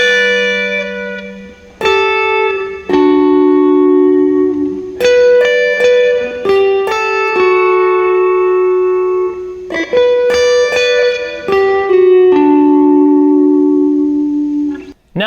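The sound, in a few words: electric guitar playing a song intro with overdrive, delay, reverb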